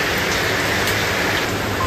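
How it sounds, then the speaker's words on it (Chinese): Steady rain falls outdoors as a dense, even hiss that stays constant and fairly loud throughout, with no voices. "下雨了"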